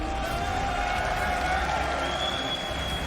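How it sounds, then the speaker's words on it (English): An audience at a StarCraft II WCS Fall 2019 quarterfinal claps and cheers in a dense, steady wash of applause that fills the whole stretch at full loudness. "one more round of applause for SpeCial"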